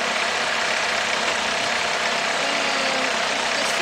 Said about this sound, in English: look at that engine run